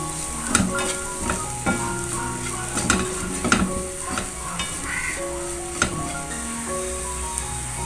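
Coriander leaves stirred into a frying egg pizza filling in a pan: a steady sizzle under repeated spatula strikes and scrapes against the pan, with a few louder knocks spaced irregularly and no talking.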